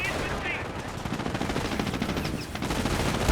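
Sustained machine gun fire in a Company of Heroes 1 battle, a dense continuous rattle of rapid shots running throughout with no pauses, layered over other battlefield noise.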